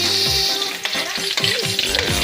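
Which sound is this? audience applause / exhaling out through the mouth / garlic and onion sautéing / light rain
garlic and onion sautéing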